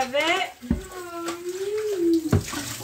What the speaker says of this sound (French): Bon, je rince.